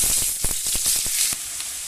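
Chopped onion hits a hot frying pan in a Bengali potato dish, giving a bright, steady sizzle with a few sharp crackles, close and alone.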